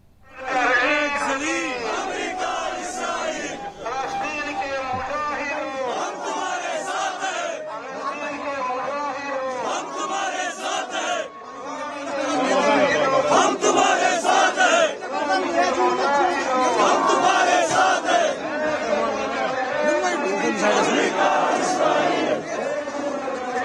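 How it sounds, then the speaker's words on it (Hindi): A large street crowd at a Friday pro-Hamas protest shouts rhythmic slogans in unison, loud and close, with chanting waves swelling and falling and a leading voice calling out between responses. "जुमे के दिन मुस्लिम भीड़ सड़कों पर उतरकर आतंकी हमास के लिए रोती नजर आई"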